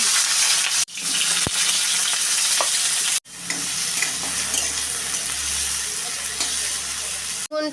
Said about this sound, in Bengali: আর বেগুনগুলো দিয়ে দিচ্ছি